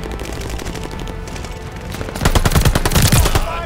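Automatic gunfire in Call of Duty Vanguard team deathmatch on the Desert Siege map: a low background rumble, then from just past two seconds a loud, rapid run of shots that lasts to the end.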